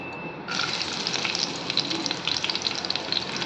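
Garlic hits hot oil in a kadai on a gas stove and bursts into a loud, close, steady sizzle with crackling spits that carries on without a break, with no talking.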